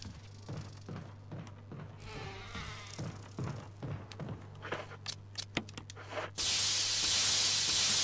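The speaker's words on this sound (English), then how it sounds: "Pumping all the insecticide in" Insecticide sprays from a pump in the survival-horror game Resident Evil Remake HD: a burst of rushing hiss that ends the clip, following a run of short clicks and clanks.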